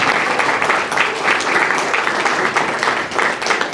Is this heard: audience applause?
yes